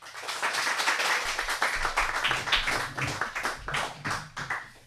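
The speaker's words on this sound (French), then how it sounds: "Je vous demanderai de donner une bonne main d'applaudissement à Mme Isabelle Lebourdet et Michel Larcher." Audience applause greets two speakers at a French-language talk on electoral reform, individual hand claps audible in a moderately sized crowd, the clapping swelling and ebbing in uneven bursts before fading near the end.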